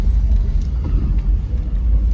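A Chevrolet 250 six-cylinder engine idles smoothly and steadily, a close, continuous low rumble with no other sounds on top.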